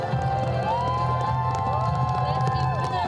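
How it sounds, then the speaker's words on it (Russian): A crowd at a ski slalom award ceremony applauds and cheers the winners and prize winners, clapping and shouts mixing with a voice talking over them throughout. "Let's give winners and prize winners a round of applause."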